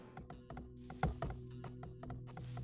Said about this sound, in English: And now all these guys are chopping wood.